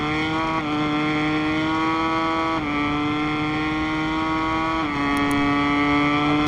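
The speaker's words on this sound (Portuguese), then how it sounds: "Eu baixei uma marcha e tô acelerando e a moto tá trepidando" A motorcycle engine in the video game MotoGP 2023 holds a steady high whine, dipping and climbing again at each gear shift, loud and continuous with no talking.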